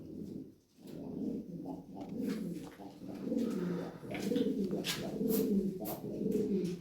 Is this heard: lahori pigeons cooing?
yes